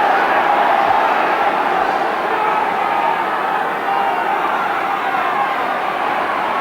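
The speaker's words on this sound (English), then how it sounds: "The crowd at last beginning to get behind Wigan." A rugby league stadium crowd at a Wigan versus Bradford Northern Challenge Cup semi-final, with steady, broad, distant cheering and murmuring throughout.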